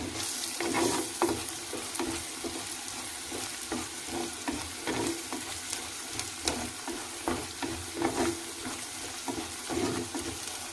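Chana dal fry being stirred in a clay pot, the spoon scraping in steady irregular strokes over a soft continuous sizzle, close and moderately loud with no talking.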